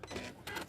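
A sewing machine used for collage piecing, run without a presser foot, gives a short stop-start motor whir of two quick bursts.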